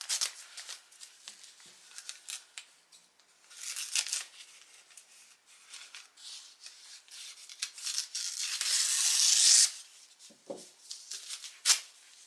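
Scissors snip and slide through buffalo check wrapping paper in a series of irregular, crisp cuts and rustles, close and fairly quiet, with a longer crinkling stretch near the end.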